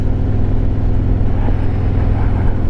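Harley-Davidson Road Glide Limited motorcycle on a cold December afternoon ride, a loud, steady low engine rumble with wind noise, close and continuous throughout.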